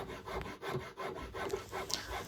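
Rhythmic back-and-forth scratching of sandpaper rubbed by hand over a scrap hardwood handle, close and fairly quiet, repeating in steady strokes with no voices.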